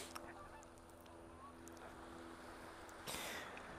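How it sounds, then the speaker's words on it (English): Canada geese give a few faint, distant honks at an outdoor waterside spot, thin calls over soft wind and ambient hiss, with a brief louder rustle near the end. "Some Canadian geese."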